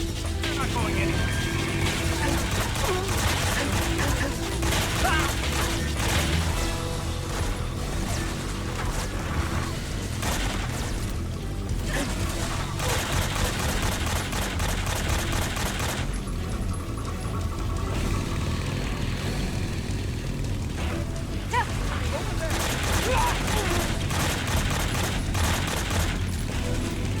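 Near-continuous gunfire and explosions from a jungle firefight in Metal Gear Solid 3, dense and loud throughout with mechanical clatter, under game sounds and someone talking.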